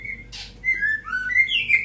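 A white-rumped shama (murai batu) singing close by, a series of clear, loud whistled notes rising and falling, with a short rasping burst between phrases.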